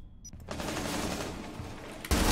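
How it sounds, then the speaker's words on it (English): Rapid gunfire from Rainbow Six Siege rattles through a wall, a dense continuous burst of shots lasting about two seconds, muffled and moderately distant, ending in a louder, closer hit. "they're trying to wallbang me"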